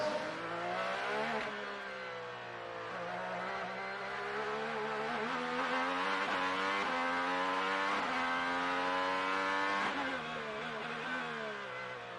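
Honda-powered IndyCar race car on a flying lap into a braking zone at the Detroit Grand Prix street circuit, its engine screaming loud and close, with revs falling on downshifts and climbing again as it accelerates.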